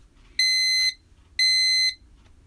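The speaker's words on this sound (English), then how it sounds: "The alarm went off because our set points for fridge and freezer are lower than the ambient room temperature." A Thermco ACCRT8017 dual probe vaccine data logger sounds its alarm: two identical high-pitched electronic beeps, each about half a second long and a second apart, loud and clean over a quiet room.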